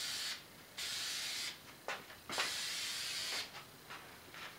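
Aerosol spray paint hissing onto a Subaru body panel in several separate bursts, each a steady broad hiss lasting about a second, close and fairly loud with short pauses between passes.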